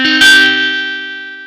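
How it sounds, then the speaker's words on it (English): Electric guitar through a distortion plugin: a sustained distorted chord rings out with a bright, fizzy attack, then holds and slowly fades, loud and alone with no talking. "let's add maybe some distortion plugin"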